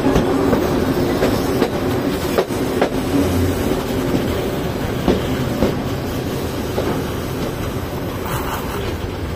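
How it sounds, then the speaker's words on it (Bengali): The Kishorganj Express slows for Bajitpur railway station, giving a loud, continuous rumble from inside with clattering wheels and occasional sharper clanks throughout. "এখানে ট্রেন ব্রেক করবে"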